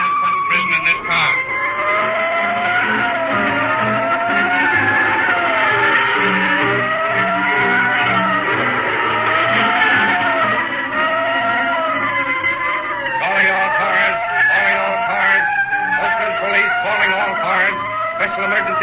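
A 1936 radio-drama getaway car, a Studebaker sedan, squeals and skids with wavering tire screeches over a rumbling engine, loud and continuous, while a voice speaks over the scene.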